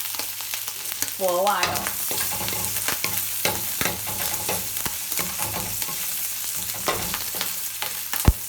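Chinese bacon sizzles and fries steadily in a pan as its fat renders out, with repeated stirring clatter and scrapes throughout; a brief voice speaks near the start.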